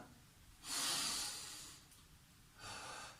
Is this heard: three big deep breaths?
yes